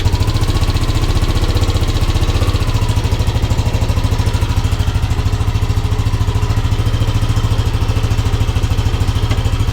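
A Yamaha NVX scooter engine runs at a steady loud idle right up close, with a rapid, even pulsing exhaust throb and no voices.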